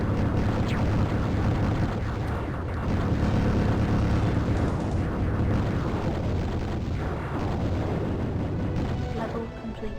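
An explosion rumbles in the shooter video game Tyrian 2000, a dense, booming blast layered over game music and effects, with someone talking over it.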